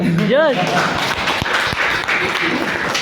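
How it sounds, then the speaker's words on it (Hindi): An audience at a gathering claps for someone speaker, a sustained crowd of handclaps with a few cheering voices rising over it at the start. "मेरे लिए भी जोरदार ताली हो।"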